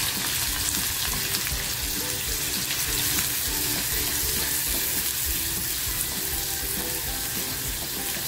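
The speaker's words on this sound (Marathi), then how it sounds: "तेल बघा छान तापलेलं आहे, कांदा टाकते।" Chopped onion hits hot oil in a pan and sets off a steady, dense sizzle that runs evenly throughout, with faint tonal sounds in the background and no talking.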